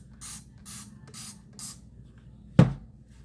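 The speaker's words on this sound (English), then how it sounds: "Spray it again." Spray bottle misting water onto a frontal lace wig: four short, soft hissing sprays in an even rhythm, close by, followed by a brief sharper knock or tap.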